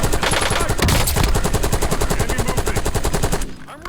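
Rapid automatic gunfire in Call of Duty Warzone hammers out in a fast, even burst of shots, loud and up front, cutting off abruptly near the end.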